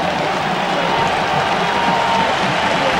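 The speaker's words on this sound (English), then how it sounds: "leaving the field, drawing the applause that he certainly deserves" Stadium crowd at a college football game, WSU Cougars at UCLA Bruins, applauding quarterback Gesser as he leaves the field: steady, broad wash of clapping and crowd noise, fairly loud and continuous, with no distinct voice on top.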